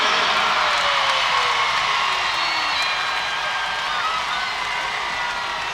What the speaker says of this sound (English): The crowd eruption you hear is for the floor score of Sarah Edwards